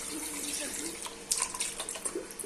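Water is poured from a large cup into keema cooking in a pan for stuffed karela, a steady splashing pour with some bubbling and sizzling, followed by a few small clinks.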